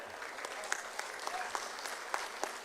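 Political rally audience at an UMNO gathering breaking into applause, a brief, fairly distant patter of clapping from a crowd, steady and moderate with a few sharper individual claps.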